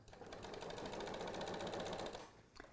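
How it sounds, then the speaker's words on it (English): A sewing machine runs steadily stitching a dart on a Simplicity 3833 garment, a continuous close whirring hum lasting over two seconds before slowing to a stop near the end. "And then you'll just continue stitching all along the rest of the dart."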